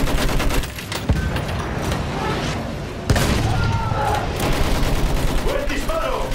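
Bursts of rapid gunfire crackle continuously in Battlefield 1, with sharp louder shots at intervals and distant booms, forming a dense, chaotic battle soundscape.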